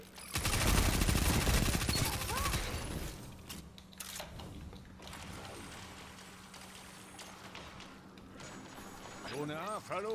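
Rapid gunfire in a shooter video game, a dense burst of shots at the start that thins into scattered cracks and effects, with a voice talking over the later part.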